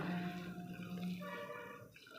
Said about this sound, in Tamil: கொஞ்சமாக தண்ணி சேர்த்திக்கலாம்